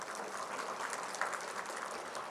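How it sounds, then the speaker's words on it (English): Applause from a graduation audience at a kente stole ceremony, a steady, fairly faint patter of clapping lasting the whole moment with no one speaking. "Round of applause."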